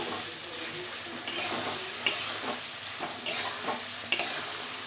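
Rohu fish curry masala with a splash of water is stirred in a pan: a bubbling sizzle under four or five scraping strokes of a spoon, each with a bright metallic scrape, at an even pace.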